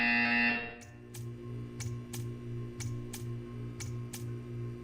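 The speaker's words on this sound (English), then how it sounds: "You will hear a buzzer." A loud buzzer in the video game Portal 2 blares for about a second, then gives way to a quiet hum marked by a regular series of sharp ticks.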